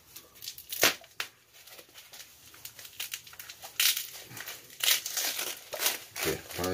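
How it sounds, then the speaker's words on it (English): Heavily taped mail package wrapping being ripped open by hand, with repeated crinkling tears and crumpling bursts close by, loud and irregular throughout. "break the wrapping, rip the wrapping"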